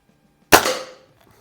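A Feinwerkbau 124 spring air rifle fires a single pellet at an outdoor range, one sharp, loud crack with a short ringing decay, then quiet.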